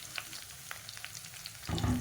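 Long-sliced onions sautéing in oil for moringa leaf biryani, a soft crackling sizzle with light scattered pops that swells into a louder, fuller hiss near the end.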